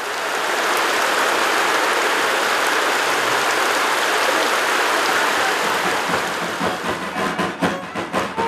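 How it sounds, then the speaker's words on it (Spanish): Heavy rain pours down steadily in a dense, even hiss, with scattered heavier drips and splashes emerging near the end, and no voices. "labor que se vio interrumpida por una fuerte lluvia"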